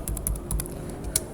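Keystrokes on a computer keyboard while entering router configuration commands, a short burst of about eight crisp clicks at uneven intervals, close and fairly quiet.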